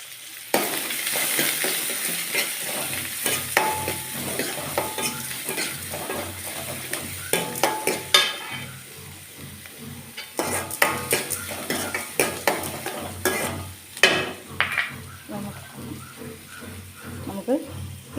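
Chopped onion sizzles in a pan while a spoon scrapes and clinks through it in irregular strokes, a steady frying hiss underneath, with a voice talking at times.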